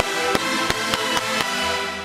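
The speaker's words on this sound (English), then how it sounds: "which would create a click, which sounds like this." Sharp digital clicks from a dry signal doubling over itself as a reverb switches off, five or so evenly spaced pops cutting through a sustained synth tone, loud and alone.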